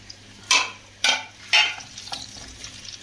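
Vegetables with garlic and onion frying in a pan with pickled peppers, stirred in three firm scraping strokes about half a second apart over a steady sizzle, then quieter frying alone.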